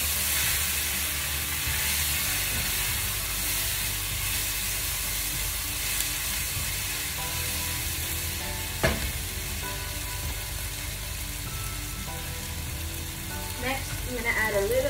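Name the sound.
stirring chilli soya with black pepper in a frying pan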